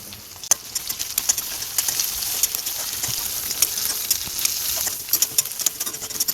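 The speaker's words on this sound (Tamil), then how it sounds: "இப்போ மெதுவாக அந்த முட்டையை கிண்டி விட்டுக்கலாம்" Egg fries in a kadai with a close, steady crackling sizzle while a spatula stirs it, leaving scattered sharp ticks and scrapes throughout.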